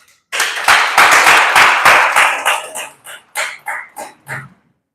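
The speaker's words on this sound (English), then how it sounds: "Let's give her a round of applause." A seminar audience gives a round of applause, a short, close burst of group clapping that thins out into a few scattered, separate claps before stopping.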